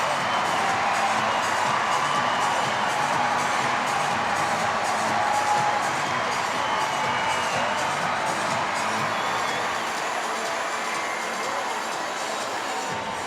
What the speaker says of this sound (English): Greeted with thunderous applause from the USA supporters.